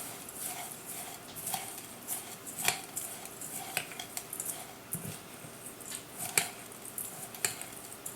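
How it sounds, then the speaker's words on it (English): Corn flakes tossed with melted butter in a bowl for a cheesy hash brown casserole topping, giving soft repeated scraping and crunchy clinks of a utensil against the bowl, steady and close, with no talking. "I'm just going to mix that up and just kind of combine the butter with the corn flakes"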